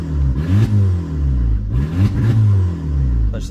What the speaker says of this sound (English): A little bit of a rough start.